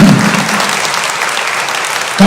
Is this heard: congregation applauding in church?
yes